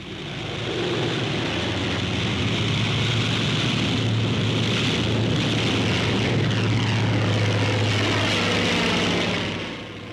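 A wartime TBF navy aircraft taking off with JATO rocket assistance, a loud, steady roar of engine and rocket thrust that swells in and holds for nearly ten seconds before tapering off.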